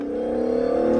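A steady electronic engine-revving sound effect from a toy car, with a sustained buzzing tone that builds slightly in loudness, heard alone and fairly close.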